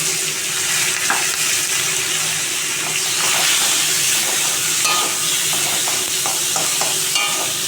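Cut pumpkin and potato frying in a pan with grated ginger, a continuous crackling sizzle with scattered scraping stirs, close and steady throughout.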